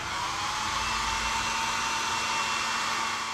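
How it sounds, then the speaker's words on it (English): A blow dryer runs steadily at close range, heating carpet glue on a boat, with a continuous airy whoosh and a low motor hum throughout and no talking. "just put a blow dryer on it for a couple minutes and it'll be good to go pretty quick."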